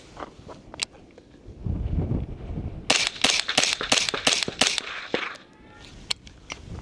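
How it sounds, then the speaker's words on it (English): A suppressed 5.56 rifle fires six fast shots in a tight rhythmic burst, sharp muffled cracks close by, with a lone shot or two and some handling noise before and after. "I'm gonna do 6 shots real quick"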